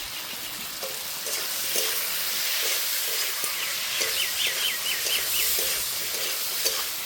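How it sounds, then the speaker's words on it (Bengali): Potato and eggplant fry in hot oil, seasoned with Kashmiri chili powder, giving a continuous bright sizzle and hiss with scattered soft scraping and stirring knocks from a spatula, close and steady throughout. "আলু বেগুনটা ভেজে নিয়েছি, লঙ্কার গুঁড়ো দিয়ে দেবো, কাশ্মীরি লঙ্কার গুঁড়ো"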